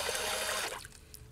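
A drill-powered boat motor churns water, giving a rushing, splashing wash that is loud at first and then cuts off abruptly, leaving faint trickling.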